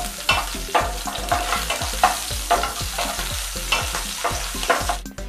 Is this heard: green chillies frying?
yes